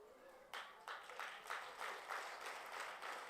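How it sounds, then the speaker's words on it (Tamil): Audience at a Tamil comedy stage show led by Madurai Muthu breaks into loud clapping, the applause swelling in repeated surges after a quiet start and continuing steadily throughout. "ஏன் ஓங்கி கைதட்டுறா தெரியுமா?"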